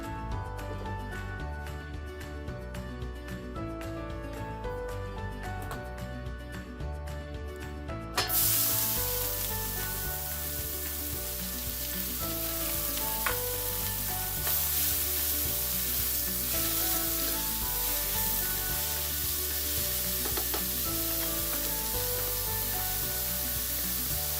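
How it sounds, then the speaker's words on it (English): Onions sauté in hot olive oil, heard as a steady, close sizzle of frying with occasional stirring scrapes. Quieter background sound comes first, then the sizzle starts abruptly and carries on alone to the end. "We're going to start off by sauteing our onions."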